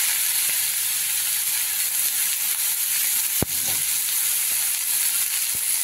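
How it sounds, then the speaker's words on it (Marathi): Bottle gourd and cumin stir-fry in a pan over low heat under a constant close hiss, broken by one sharp utensil knock midway and a few faint taps. "आता आपल्याला चांगला भोपळा परतून घ्यायचा।"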